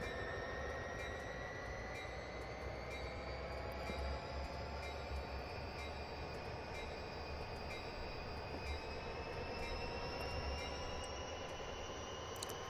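A Metra commuter train with bilevel passenger carriages runs along the line in the Train Simulator Classic game, a continuous steady rumble with droning tones and faint wheel squeal, even in level and heard alone without voices.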